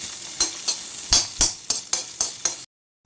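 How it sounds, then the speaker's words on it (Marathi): Four cloves of finely chopped garlic frying in homemade white butter, crackling sizzle broken by a regular series of sharp stirring scrapes, about eight strokes, before sudden silence. "त्याच्यामध्ये लसूण चार पाकळ्या बारीक तुकडे केलेले घातले"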